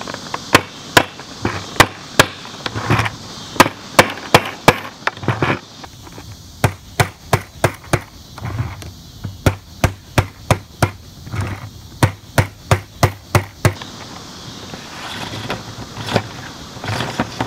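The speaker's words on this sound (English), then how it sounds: "I just use a little rubber mallet to install them." Little rubber mallet tapping Gamma plastic lids onto bucket rims, a long run of sharp, evenly spaced knocks in quick bursts with brief pauses between.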